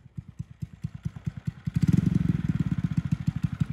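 An engine idles roughly with low, evenly spaced thumping pulses heard up close. Partway through it grows louder and slightly quicker, then settles into a steady beat.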